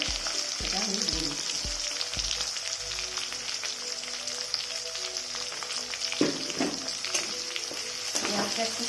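Chopped onions and slit green chillies sizzle in hot oil in a pan over bay leaf and cumin, a steady crackling fry near and clear, with a few sharp clinks and scrapes of stirring.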